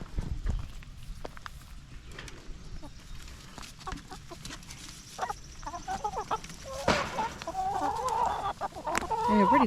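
Backyard chickens clucking and scratching at the ground, soft scattered scuffs and footsteps at first, then growing bursts of clucking close by toward the end.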